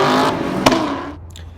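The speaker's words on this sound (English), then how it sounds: "I'll put some clips of my car using launch control and my car no lift shifting at the track" A 1996–2004 Ford Mustang at a race track revving hard under launch control and no-lift shifting, a loud raw engine roar with a sharp crack partway through, then a quick drop-off as the car pulls away.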